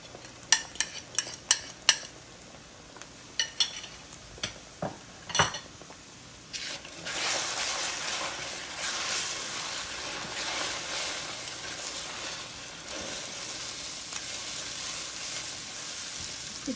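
Six crushed eggs going into a pan for chira polao: a run of sharp clinks and taps of utensil on pan, then a sustained close sizzle with scraping stirring strokes throughout.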